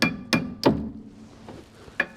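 A hammer strikes the rear brake parts of a Volvo 740 several times, giving loud, close, ringing metallic blows with uneven gaps between them.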